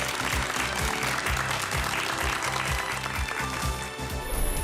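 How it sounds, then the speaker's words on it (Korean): Applause from a studio audience greeting a guest speaker at a Korean talk-show lecture event, steady and dense throughout, with low music-like thumps underneath. "큰 박수로 맞아주세요."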